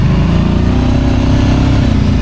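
A Kawasaki Brute Force ATV's V-twin 750 engine rumbles at close range, a loud, steady low throb with an even pulsing rhythm and no voices over it.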